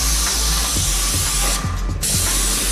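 A paint spray rig hisses in a continuous loud spray, broken by a short pause and faint clicking from the gun's mechanism, with no voices.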